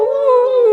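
A person imitating a wolf howl with their voice, a single sustained tonal howl held for under a second, loud and close to the microphone.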